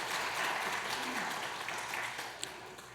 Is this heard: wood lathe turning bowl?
no